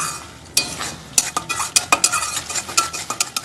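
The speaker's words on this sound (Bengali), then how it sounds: "এখন আমি তেলের সাথে এটাকেও ভালোভাবে কষিয়ে নেব।" Cashew-poppy paste frying in oil for a Bengali pabda fish curry, a light sizzle beneath a quick run of sharp spatula clicks and scrapes against the pan, close and fairly loud.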